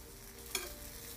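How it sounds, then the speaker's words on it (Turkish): Sliced eggplant fries in a pan of oil with a steady faint sizzle and a brief stirring scrape partway through, with no voices. "6-7 dakikadır kızartıyorum."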